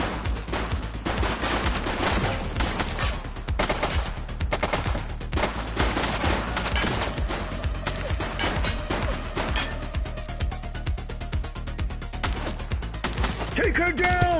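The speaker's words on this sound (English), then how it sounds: "He's shooting!" Rapid bursts of automatic gunfire crackle nearly nonstop through a video game shootout, dense and loud from start to finish, with voices calling out over the shots.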